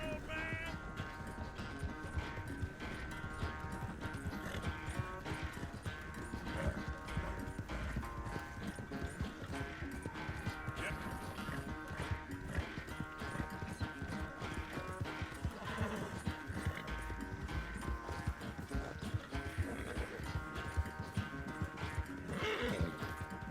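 Horse hooves gallop in a fast, steady clip-clop rhythm in the game Red Dead Redemption 2, with whinnies breaking through during the ride and faint talk now and then underneath.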